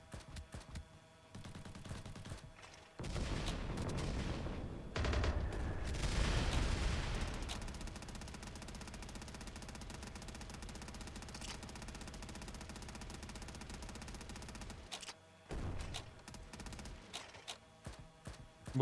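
Sustained bursts of automatic gunfire during combat in the video game Quarantine Zone, loud and dense, with a heavy blast midway and a steady rattling volley afterward before tapering into scattered shots.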